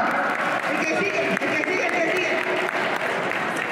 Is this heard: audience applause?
yes